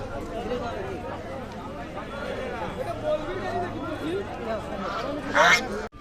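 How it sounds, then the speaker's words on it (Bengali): Chinese ducks at a market, quacking repeatedly amid a busy crowd with constant chatter around them. "এই যে চায়না হাঁস, এটা"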